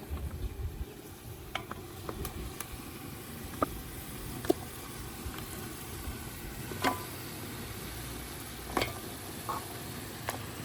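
Mutton trotters dropped into a yogurt masala in a pan, giving a steady, even sizzle and frying hiss broken by sparse clicks and light stirring taps.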